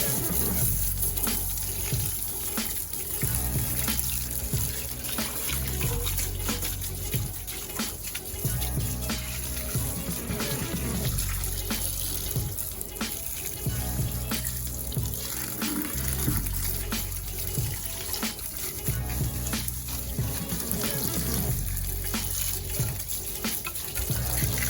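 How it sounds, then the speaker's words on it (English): A garden hose sprays water steadily onto a very dirty car engine being cleaned, a continuous hissing splash that stays close and fairly loud, with irregular spatter as the stream moves across surfaces. "Just use a garden hose, you should be fine."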